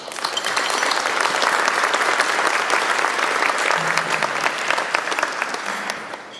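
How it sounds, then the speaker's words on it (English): A conference audience at a business expo claps: loud, dense, sustained applause that tapers off at the close, with no talk. "Maybe we should applaud you one more time"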